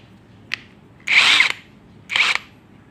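JLD 350 Nm power tool with a 19 socket loosening the front wheel bolt of a Honda Vario scooter, a short tap followed by two loud, close, half-second impact bursts.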